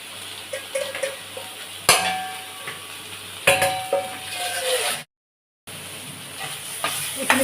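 Water poured into a hot pan while cooking khorisa (fermented bamboo shoot) fish curry, giving a hissing, steaming sizzle with utensil clatter and a few sharp clinks, broken by a brief silent gap.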